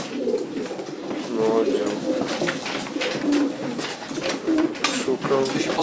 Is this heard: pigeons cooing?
yes